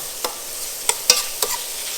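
Bacon stir-fried in a pan on an induction hob, cooking toward crisp: a handful of sharp, close scraping stirs punctuate a soft, continuous sizzle, with no voices.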